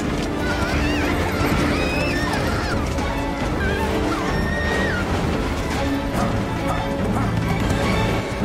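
Horses of mounted troops in a historical action film scene: hooves clatter, horses whinny, and crashes and thuds mix with voices in a loud, busy scene.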